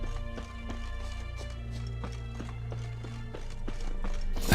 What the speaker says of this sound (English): That's his horse.